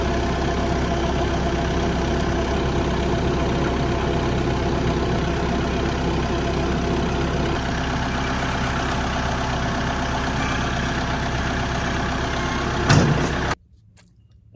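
A tractor engine idles steadily and loudly up close, a constant low rumble that swells briefly near the end before cutting off abruptly into quiet.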